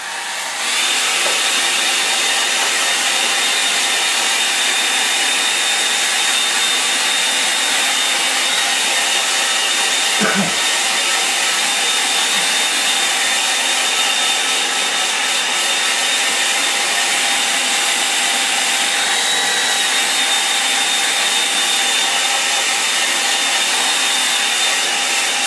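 A hair dryer blows steadily on a watercolour painting of a winter park, a loud, continuous close whir lasting the whole stretch with no talking.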